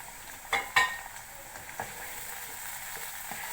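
Tomatoes tipped into a pan of frying bitter gourd curry, two soft thuds followed by a low, steady sizzle that continues alone.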